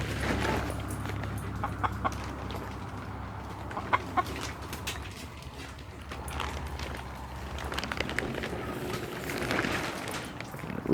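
Homestead chickens and a rooster cluck and murmur close by in short, irregular bursts over a quiet yard, with occasional louder squawks.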